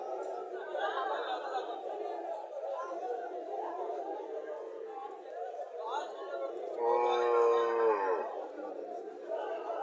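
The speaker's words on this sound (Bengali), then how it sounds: "এখানে আরেকটা গাভী দেখা যাচ্ছে" At a crowded cow market in Cumilla selling local and Sahiwal-breed cows, a cow lets out one drawn-out moo near the end, rising over constant close chatter and people talking.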